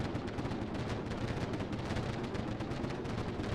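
Dense, continuous guerrilla gunfire and crackling bursts during an uprising attack on upgraded towers in the Tropico video game, a steady barrage of overlapping shots with no pauses throughout.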